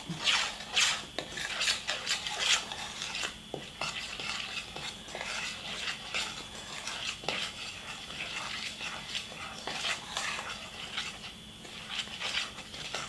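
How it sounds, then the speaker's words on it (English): Cinnamon being stirred and mixed into homemade dough, with repeated soft scraping and stirring strokes close by and some clinks, with no talk. "a half a cup of cinnamon. I'm gonna add this in there and start mixing it up"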